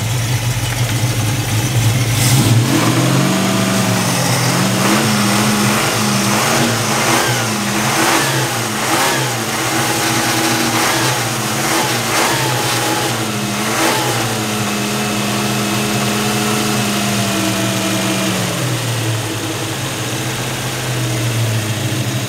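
An older car's engine revved repeatedly as part of a routine maintenance procedure, rising and falling in a series of throttle blips over a steady idle, loud and close, with no talk.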